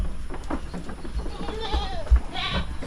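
A young black goat kid bleats in short, wavering cries amid faint farmyard noise, with a few thumps and rustles close by.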